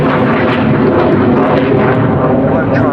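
A jet aircraft with two Avon engines pulls up at an air display, a loud continuous broadband roar filling the whole moment with no gaps.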